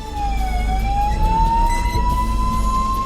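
An ambulance siren wails loudly and steadily on a forest road, a long, slowly rising tone over the low rumble of the vehicle's engine.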